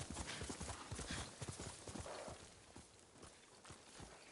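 Horse hooves clip-clop steadily in the video game Ghost of Tsushima, a quick, close, rhythmic trot that runs the whole time over a dense bed of game ambience, with a brief whinny-like swell partway through.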